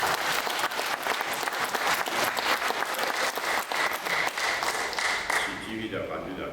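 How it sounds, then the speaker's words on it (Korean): Church congregation at a Korean prayer breakfast service applauds the choir: steady, dense clapping from many hands fills the room for several seconds, then thins out near the end. "찬양대 인원이 점점 늘어서 저 뒤에까지 우리 찬양대에서 박수 한번 하겠습니다."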